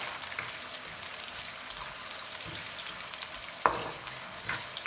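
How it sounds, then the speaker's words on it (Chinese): Sichuan peppercorns, star anise, cinnamon, scallion pieces and sliced onion stir-fried slowly in oil over low heat, giving a steady close sizzle and crackle throughout, with a sharp clatter of the utensil near the end. "然后放入花椒、八角、桂皮、葱段，最后放入洋葱丝，开小火慢慢煸炒。"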